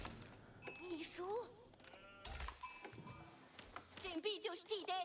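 Sheep bleat in a real-time strategy video game match, several wavering game-sound bleats scattered among clicks and effects while players talk over them in English and Chinese.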